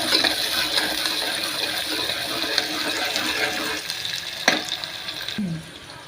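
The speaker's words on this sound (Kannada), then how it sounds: "ಉಳ್ಳಾಗಡ್ಡಿ ಕಟ್ ಮಾಡ್ಕೊಂಡಿರ್ತೀವಲ್ಲ ಅದನ್ನು ಹಾಕೋಣ. ಫ್ರೈ ಮಾಡ್ತೀನಿ." Chopped onions sizzle in a pan while making methi palya rice, a busy wet hiss with scattered clatters, a sharp knock near the end, then the sound thins out and drops away; no one speaks.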